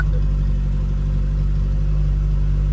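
A small engine idles fast with the choke off, a close, loud, steady drone with an even low hum and no change in pitch.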